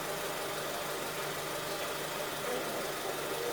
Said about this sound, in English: it's a real nice idle, but wow, we got flamage there